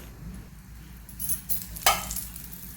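Oil sizzles quietly as a paratha fries on a pan, a soft steady hiss broken by a few light scrapes and one sharper burst of crackle near the end.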